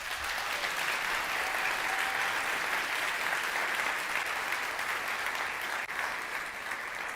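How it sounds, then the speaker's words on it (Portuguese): A seated audience applauds a young woman who worked at a McDonald's drive-thru, a steady dense wash of clapping that holds at even loudness for about seven seconds with no voices over it. "Uma salva de palmas para a Natália."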